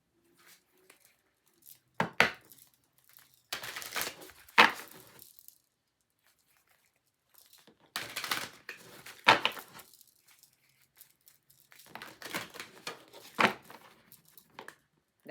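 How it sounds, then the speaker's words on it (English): Bursts of crisp riffling and flapping of cards come in separate rounds with quiet pauses between them, close to the listener and without talk. "That was a weak shuffle."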